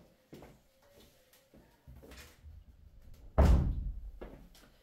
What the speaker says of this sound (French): attendez, je vais fermer la porte